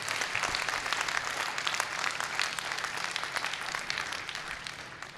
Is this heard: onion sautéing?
no